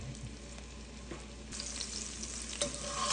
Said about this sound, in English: So now that olive oil has come up to heat, I've just added the pancetta.